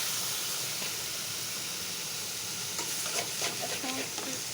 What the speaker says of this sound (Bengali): এখন এই করলাটা দিয়ে দেব।